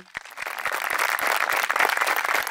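A crowd at an outdoor political campaign rally breaks into applause, steady dense clapping close by with a few sharper individual claps standing out.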